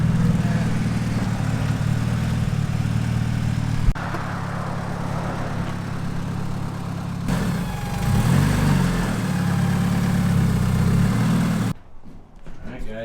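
A Honda Civic's engine runs steadily at a mid-pitched idle as the car is loaded onto a trailer, close and continuous, with voices talking over it before the sound drops away near the end.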